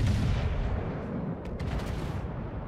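Heavy naval guns from a Nelson-class battleship in World of Warships fire in a loud, rumbling continuous barrage, deep booms layered together with a few sharp higher cracks partway through.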